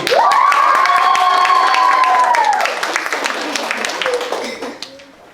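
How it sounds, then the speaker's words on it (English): An audience at a public speech contest applauds the first prize winner, loud clapping and cheering with a long sustained shout over it, then dying down into scattered claps and chatter. "Give a big applause for the first prize winner, Lucy."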